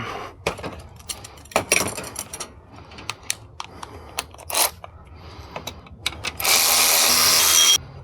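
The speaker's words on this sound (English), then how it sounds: "we're gonna take it out with the electric ratchet" An electric ratchet removes a bolt on a Honda Element: short bursts of whirring and clicking ratchet action with sharp metallic taps, ending in a longer, louder continuous mechanical buzz up close.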